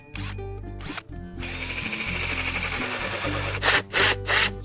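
A power drill bores a hole through a dried gourd being made into a bluebird house, with close, loud motor whine in several bursts, short pauses, and scraping as the bit cuts through the shell.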